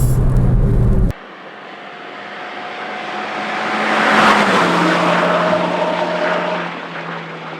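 A tuned Suzuki Swift with HKS and CUSCO parts drones steadily under acceleration on a test drive, its engine note climbing and swelling loud before settling, with no talk over it.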